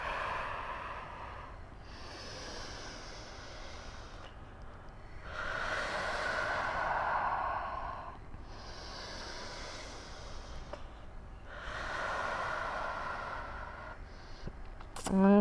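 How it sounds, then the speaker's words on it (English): Slow, audible breaths in through the nose and out through the mouth during a mat Pilates session, four long airy swells of about two seconds each, soft and close, with no talking. "Let's just take 3 breaths here. Inhale through the nose,"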